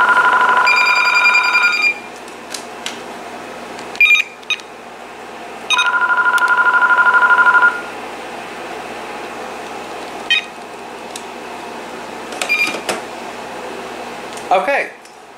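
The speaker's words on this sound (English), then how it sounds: "let's go ahead and try to see if the talk button works" A Vtech IA5854 cordless phone sounds its talk button as a series of electronic tones: two sustained ringing bursts and several short, sharp beeps spaced across a quiet room.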